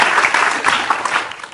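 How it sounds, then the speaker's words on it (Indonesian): A studio audience applauds Habibie Afsyah and his mother, Ibu Endang, on a television talk show: steady, dense clapping from many hands, loud and close, running without pause. "Kita boleh tepuk tangan sekali lagi untuk Habibie Afsyah dan Ibu Endang"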